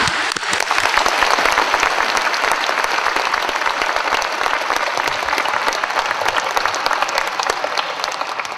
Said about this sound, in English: please give a warm round of applause to 청년사 Publishing Company and Mr. Zhang